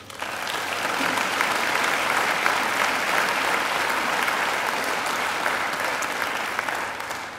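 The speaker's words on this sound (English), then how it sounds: "She deserves a great round of applause." A graduation ceremony audience applauds steadily, a dense, even wash of clapping that holds for several seconds before starting to thin out at the end.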